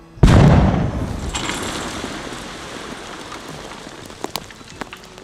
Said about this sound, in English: The most exciting part of the experiment is pushing the button and making the ground explode.